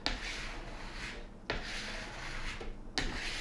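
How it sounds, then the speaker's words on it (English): Excess wax being scraped smooth across a surface, a steady rasping scrape repeated in three long strokes with a sharp catch at the start of each, close and fairly loud with no talking. "just gonna scrape it off as smooth as we can"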